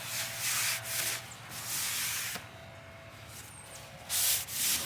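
A paper towel wiping down rusty patio furniture, giving soft rubbing swishes in several bursts with short pauses between them, close up and with no talking.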